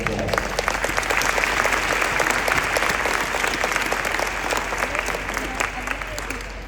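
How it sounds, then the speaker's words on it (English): Steady applause from a crowd at a 5th grade Christmas band concert, dense clapping that holds for several seconds and slowly tapers off. "let's give all those people that help me out a big round of applause"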